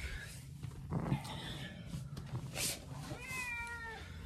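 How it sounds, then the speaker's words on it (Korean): A pet cat waiting for food meows close by, a few short calls including a drawn-out rising meow near the end, over a quiet room with faint background voices. "우리 고양이를 소개합니다."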